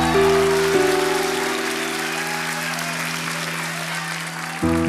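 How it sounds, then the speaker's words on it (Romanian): A televised singing competition audience applauds a male contestant, dense clapping running throughout while a sustained music bed plays underneath, the music shifting near the end. "aplauze pentru el!"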